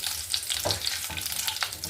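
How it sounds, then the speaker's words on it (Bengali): Fenugreek seeds fry in hot oil for a tempering, a close crackling sizzle broken by quick pops and stirring scrapes over a couple of seconds. "মেথি এটা ফোড়নটা এবার একটু ভেজে নেব"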